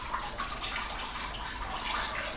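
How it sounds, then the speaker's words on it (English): Water splashes and pours steadily off a container just lifted out of a cool water bath while making homemade cream, a continuous close, moderately quiet trickle with no talking. "lots of water coming out"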